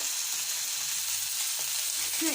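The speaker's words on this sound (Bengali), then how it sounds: "তো এভাবে করে মাছগুলো উল্টিয়ে দিলাম আবার কিছু সময় জাল করে নিয়ে আবার আমি এটাকে উঠিয়ে ফেলবো" Rohu fish pieces, freshly flipped, fry in hot oil in a pan, giving a steady, close, loud sizzle with light crackle throughout.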